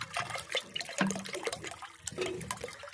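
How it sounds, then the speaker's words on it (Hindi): Water poured into a container and swirled to mix a bird medicine, a faint splashing and sloshing nearby with irregular bursts of liquid movement. "ये पानी आप इसके अंदर और डाल लें, और इसको पानी को इस तरह आप अच्छी तरह हिला लें"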